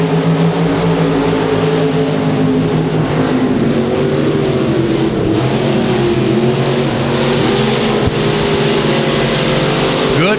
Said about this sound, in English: out in front of Lance Borgman as we come out of turn number 4 to complete lap number 1